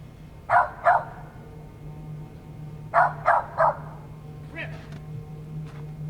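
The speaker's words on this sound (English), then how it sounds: "it's barking like a scared dog would." A frightened dog barks sharply nearby, first two quick barks, then a pause and three more in a row, followed by fainter yelps over a steady low hum.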